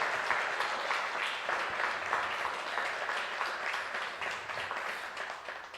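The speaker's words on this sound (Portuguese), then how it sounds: "aplauda Ele" A congregation in a church applauds together, a soft, even wash of many hands clapping at a moderate distance that continues steadily and tapers slightly toward the end.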